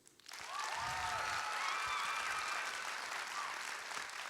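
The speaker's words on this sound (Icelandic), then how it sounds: "viljum við líka biðja ykkur að gefa sérstaklega gott klapp til Ásu Hauksdóttur og Friðrik" Sustained audience applause at an Icelandic youth arts festival event, loud dense clapping building quickly and holding steady, with faint cheering threads over it.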